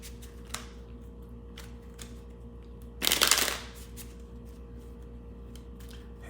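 Tarot cards being shuffled by hand, a few soft riffles and taps followed by one louder, half-second burst of papery riffling, close and quiet with no talking.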